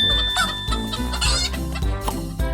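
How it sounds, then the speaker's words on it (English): A cartoonish hen clucks in short bursts from an animal matching puzzle game, loud and near over a steady musical backing. "A hen!"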